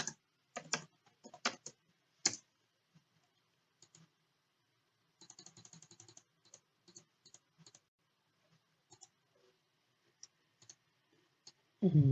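Typing on a computer keyboard while building a spreadsheet in Excel, with bursts of quick, close clicking keystrokes separated by pauses and a few isolated taps.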